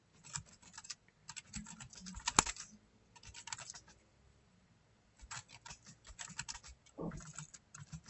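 Someone types on a computer keyboard in quiet, close bursts of rapid key clicks separated by short pauses, with a single sharp tap partway through.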